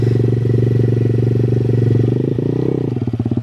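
A Welsh Pit Bike 125cc motorcycle engine drones steadily close by, then revs rise and fall with a choppy, pulsing note as the bike pulls away in gear.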